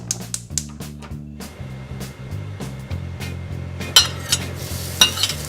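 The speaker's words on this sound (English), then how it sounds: "Stir it around a little bit." Noodles being stirred and fried in a pan for chow mein, with a steady close sizzle, scraping and stirring clatter, and a few sharper utensil knocks against the pan.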